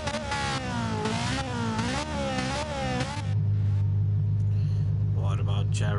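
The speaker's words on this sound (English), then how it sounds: "Oh, seems like there is some revving for Nino too." A GT4 race car engine settles into a loud, steady, close low rumble partway through, following a stretch of harmonic voices or music at the start.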